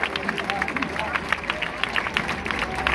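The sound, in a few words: audience applause for a performer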